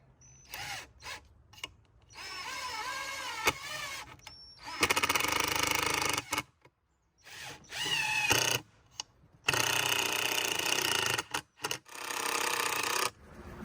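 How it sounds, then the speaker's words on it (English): A power driver sinks 1.5-inch decking screws through plastic into boards for a backyard balance bridge, in several whirring bursts separated by short silences, each ending with a strained, grinding note. "And I'm going to put 4 screws in each board, right through the plastic."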